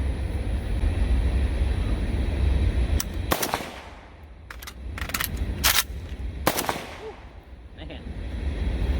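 An AK rifle fitted with an RS Regulate GKR-7MS railed handguard fires several loud, sharp bursts in quick succession outdoors, with reverberating echoes between shots and a steady rumbling background.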